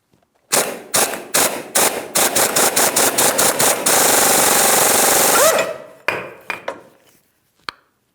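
An impact driver with an 18mm socket hammers on a pitman arm puller on a 2007-2014 GMC Sierra 2500 HD, firing in a series of short loud rattling bursts, then a long sustained run, followed by a few brief final hits.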